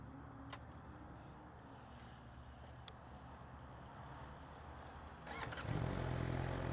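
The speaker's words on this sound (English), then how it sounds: "I'll rev it up for you so you can hear the stock engine." A Suzuki GSXR 600 with its stock exhaust cranks and fires up after several quiet seconds, settling into a low, steady idle, fairly faint overall.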